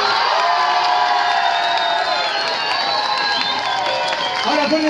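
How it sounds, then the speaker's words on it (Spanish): At a rock tribute show, a live audience cheers and applauds a second dance couple with a steady wall of shouts, whoops and clapping, while voices carry over the noise. "Aplausos y solamente aplausos para la pareja número 2"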